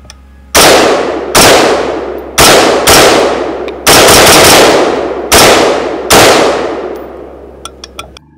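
An AR-15 rifle fires .223 62-grain rounds outdoors, seven loud, sharp reports at irregular spacing, each with a ringing decay, followed by a few faint clicks.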